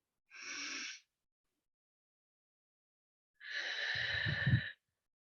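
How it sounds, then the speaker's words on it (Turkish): Two breaths with a pause between, a short nasal inhale followed by a longer, louder breath blown out through the mouth like blowing out a candle, during a guided lymphatic drainage breathing exercise. "Nefesi burnundan alacaksın ağzından mum üfler gibi vereceksin."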